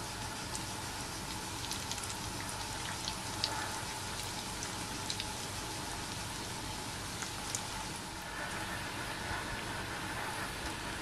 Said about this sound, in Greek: Και περιμένουμε τώρα να τηγανιστούν.